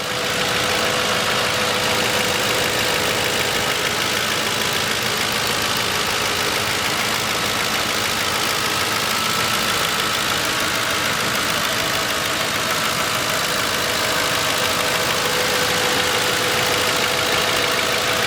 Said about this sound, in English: here's the engine, nice and quiet, no dings, no dongs